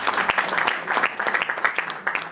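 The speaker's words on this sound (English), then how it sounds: "Banange nsaba twebaze omwami oyo with a round of applause." Applause at a Ugandan celebration event, with individual sharp claps standing out against a looser, uneven patter of hands, fairly close and lively over a short burst.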